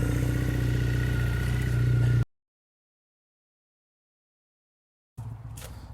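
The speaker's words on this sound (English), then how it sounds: "Hopefully you can hear me over the noise of the exhaust" A motorcycle engine, a bobber, runs with a loud, steady exhaust drone for about two seconds, then cuts to silence before the rumble returns near the end.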